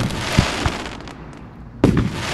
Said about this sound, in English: You want the 4th of July fireworks?